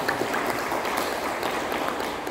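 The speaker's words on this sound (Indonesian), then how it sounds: "Tepuk tangan untuk mahasiswa kita." Steady, dense applause from a seminar audience honouring university students, a continuous wash of many hands clapping at once with no pauses, moderately loud throughout.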